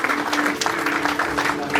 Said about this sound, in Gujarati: બધાને ક્લેપિંગ્સ પ્લીઝ